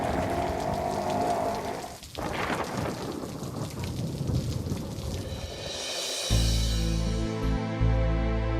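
Steady rain pours outdoors on a city street, a dense continuous hiss with thunder rumbling in, growing louder toward the end.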